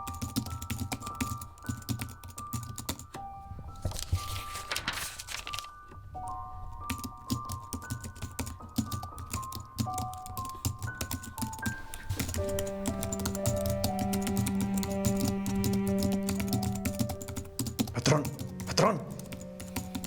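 Fast, continuous keyboard typing runs steadily throughout, its clattering keystrokes heard under a person speaking, while sustained music swells up in the latter half.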